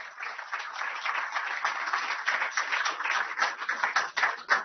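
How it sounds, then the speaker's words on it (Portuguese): An audience applauds the guest speaker, philosopher and writer Luiz Felipe Pondé, at a lecture launch event; steady, dense clapping from a crowd sustains throughout, swelling slightly toward the end. "podemos aplaudir o nosso convidado"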